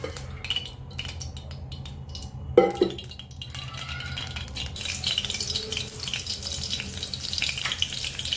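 Chopped onions go into hot oil for a kolambi (prawn) masala, raising a sharp burst of sizzling that settles into a steady, bright frying hiss. Faint clinks of a utensil against the pan come through nearby.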